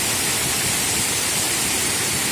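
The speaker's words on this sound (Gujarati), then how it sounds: "અને પાણી પણ ઘૂંઘવાટ કરી રહ્યું છે એનો પણ એક આનંદ હોય છે" Loud, constant roar of rushing water from an overflowing lake during rain, close and unbroken, with no voices.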